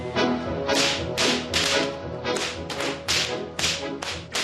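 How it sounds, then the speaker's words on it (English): Sharp stock whip cracks snap again and again in a quick, rhythmic series, loud and close, over steady background music. "whip cracking is refusing to be relegated to the stuff of legend"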